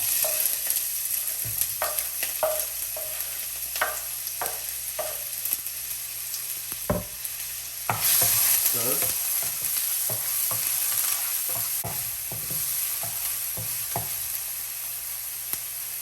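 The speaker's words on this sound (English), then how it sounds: "Now I'm gonna go ahead and add my garlic, right? And also my onion." Garlic and onion frying in a pan for a spinach and ricotta cannelloni, a steady bright sizzle with repeated scraping stirs and utensil taps, close and loud throughout.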